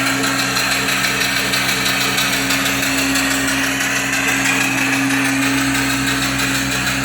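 Mill steam engine drives a one-pole alternator, a loud steady mechanical drone with a constant tonal hum and fine rapid ticking, close and unbroken for the whole stretch.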